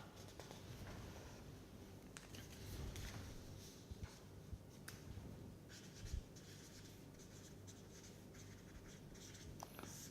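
Chalk or pen scratching out a mole balance during a chemical engineering lecture, quiet irregular strokes and taps continuing for about ten seconds with no talk.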